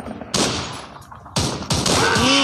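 Loud bursts of automatic gunfire from the video game Call of Courage, with three rapid volleys close together and no talk over them.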